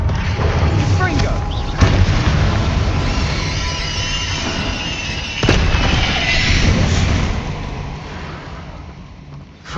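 A Confringo fire spell explosion in Hogwarts Legacy: a sustained, loud fiery roar with rumbling bursts and two sharp cracks layered over game audio, with combat noise throughout.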